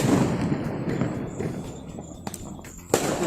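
YRS brand Diwali firecrackers bursting outdoors, a cluster of sharp cracks and pops over a noisy background with a louder bang near the end.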